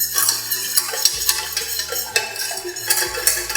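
A spoon stirs a milk and flour paste in a pan on a stove that is still off, mixing it smooth for soft milk buns. Quick, steady scraping and clinking against the pan bottom, close and alone.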